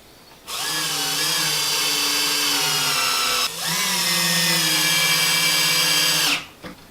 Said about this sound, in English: Put the screws into those holes.